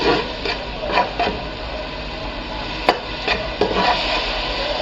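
Vinegar hisses over fried garlic and onion in a hot pan, a steady close sizzle with a few sharper crackles and a scrape or clink from stirring.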